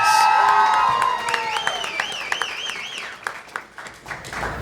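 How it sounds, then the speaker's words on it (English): Audience clapping and cheering for entrants at a convention costume contest, mixed with whistles and shouts that rise and fall in pitch, tapering to scattered claps. "Give them a round of applause."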